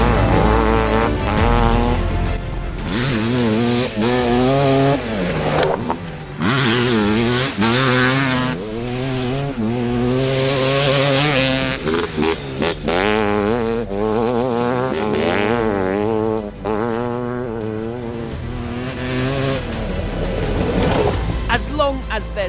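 Two-stroke motocross motorcycle engine revving loud and close, rising and falling in repeated high-pitched bursts with shifting pitch throughout, with no talk.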